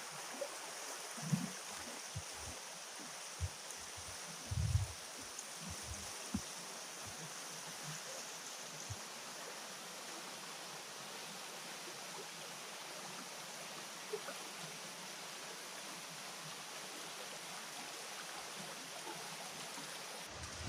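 The Durzon stream flows beside a boxwood-lined trail on the Larzac, making a faint, steady watery rush. Occasional soft low thumps sound close by, and no one speaks.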